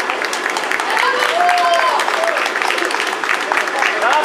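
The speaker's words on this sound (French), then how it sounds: "Sous les applaudissements." A crowd applauds at the finish of a children's UFOLEP race in Maulde, 2013, in a continuous wave of clapping, with voices and cheers mixed through it.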